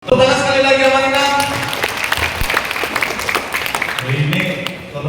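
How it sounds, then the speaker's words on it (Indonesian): Applause from a seated audience at an Indonesian public forum, a loud dense patter of clapping that runs throughout, with speaking voices over it at the start and end. "Tepuk sekali lagi Amang-Inang"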